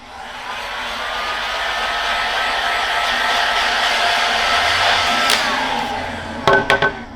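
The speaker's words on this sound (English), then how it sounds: "using a heat gun, activate the glue." A heat gun warms the glue on a footbed and stabilizer while insoles are finished, giving a continuous loud blowing hiss for about six seconds before it cuts off, followed by a few sharp knocks.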